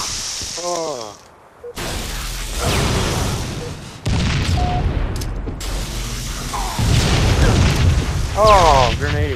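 A video game grenade goes off with booming blasts and shattering debris, several loud impacts in a chaotic stretch of gameplay with voices and other effects mixed in.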